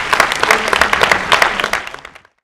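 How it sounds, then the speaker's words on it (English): Audience applause for the cast and crew of a television production, a dense burst of many hands clapping that fades out after about two seconds. "Let's give everyone a big round of applause for all the cast, David,"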